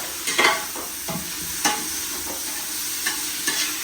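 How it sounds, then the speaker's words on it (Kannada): Onions fry in oil in a pan for biryani, a constant sizzle with occasional scrapes and clinks of stirring, close and steady throughout. "ಆಯ್ತು ಈರುಳ್ಳಿನ ಸ್ವಲ್ಪ ಬಿಡೋ ಬೇಯಕ್ಕೆ."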